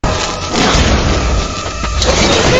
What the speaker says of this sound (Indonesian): Para lebah pun kembali nih sesaat setelah mendengar suara petasan